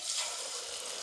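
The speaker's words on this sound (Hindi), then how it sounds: "अब इसमें हम एक एक करके पकौड़े डालेंगे" Noodle pakoras slipped one by one into hot oil in a kadhai over a medium flame give a steady, fairly quiet sizzle and crackle that holds evenly throughout with no talking.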